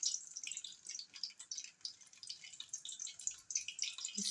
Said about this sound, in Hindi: इस तरह से मीडियम फ्लेम पे हम इनको फ्राई करेंगे।